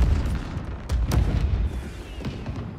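Booming explosions in the Marvel's Spider-Man 2 video game on PS5, a loud, dense barrage of deep blasts and rumbles with a couple of sharper bangs standing out, continuous through the moment.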